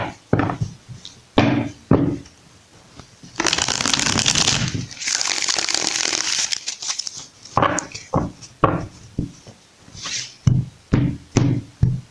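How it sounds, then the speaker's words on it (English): Tarot cards being shuffled by hand up close, a run of crisp riffling and tapping bursts with a longer continuous riffle in the middle, no talking. "just one more shuffle."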